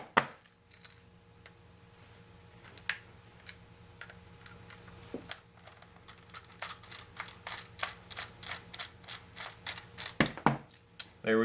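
A small flathead screwdriver works screws out of an Xbox 360 controller, faint scrapes at first giving way to a quick run of close, rhythmic ticking clicks that grow busier toward the end.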